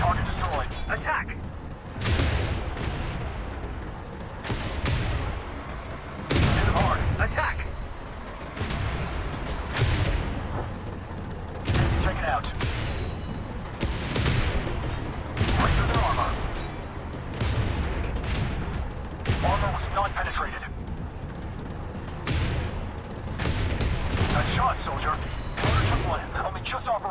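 Tank cannon shots from an M41 Walker Bulldog in the tank combat game Tank Company fire as sharp, loud booms every second or two over a constant rumbling battle bed. Voices speak at intervals during the firing.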